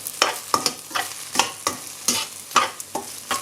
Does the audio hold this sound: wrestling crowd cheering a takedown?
no